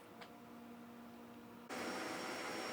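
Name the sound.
Creality K1 Max 3D printer calibrating before a print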